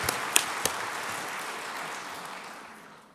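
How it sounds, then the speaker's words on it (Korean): Congregation applauding inside a church during a Sunday evening baptism service, a broad wash of clapping with a few sharp claps early on, holding steady and then fading toward the end. "박수로 격려해 주시면 좋겠습니다."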